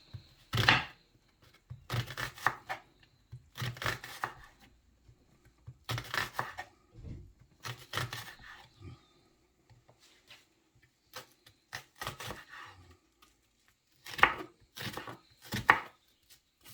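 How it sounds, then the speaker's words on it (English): Red onions being sliced with a knife on a board, bursts of quick rhythmic chopping taps separated by short pauses, crisp and close with no talk. "So I'm now slicing up my red onions."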